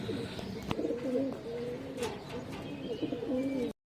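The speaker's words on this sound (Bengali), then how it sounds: "এখানে 5 পিস বাচ্চা কবুতর আছে" Baby pigeons from a high-flyer line coo in soft, repeated low warbling phrases at close range, with a brief sharp knock partway through before the sound cuts off.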